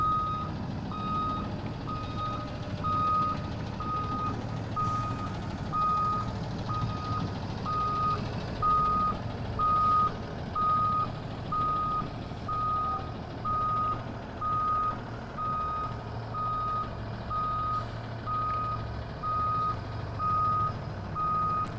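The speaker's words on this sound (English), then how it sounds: "Place bus in reverse, tap your horn, back into the roadway" A school bus backing into a roadway sounds a steady, regularly spaced electronic backup beep, repeating about once a second for the whole stretch over a low engine rumble, with no voices.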